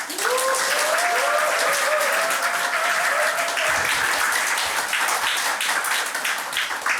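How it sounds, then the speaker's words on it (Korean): Church congregation giving a big round of applause to welcome the senior pastor, sustained dense clapping with a few voices rising early, easing slightly toward the end. "우리 원로 목사님 나오실 때 큰 박수로 환영해 주시기 바랍니다"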